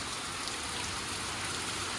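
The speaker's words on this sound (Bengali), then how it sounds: "বৃষ্টি দেখুন সকাল থেকে শুরু হয়ে গেছে আবার" Steady rain falls in a dense, even hiss close by, with no voices.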